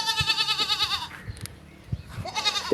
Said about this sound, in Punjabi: ਇਹ ਰਾਜਨਪੁਰੀ 2 ਬੱਕਰੇ ਨੇ ਇਹ ਵੇਖ